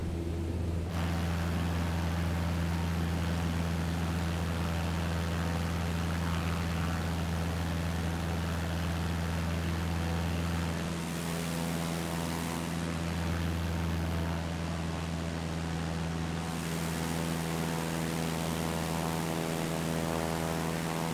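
A Cessna 152 propeller engine in Microsoft Flight Simulator, taking off over a small Amazon town, drones steadily and loudly for the whole stretch, a continuous close cockpit hum with no talk over it.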